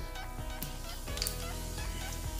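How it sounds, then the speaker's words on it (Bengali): Whole cumin seeds drop into hot oil and sizzle with a quiet, continuous crackle and small pops, close by and without talk. "দেখো তেলটা গরম হয়ে গেছে মনে হচ্ছে। এখন আমি গোটা জিরে দিয়ে দিলাম"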